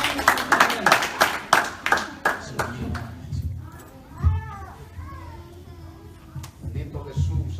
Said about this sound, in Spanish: Dele palmas al Rey de Gloria